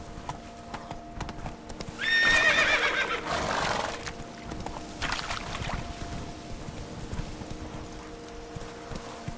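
Hooves clip-clop as a horse gallops in The Witcher 3 video game, starting loud and close with a whinny, then settling into a steady rhythm over a hum of game background.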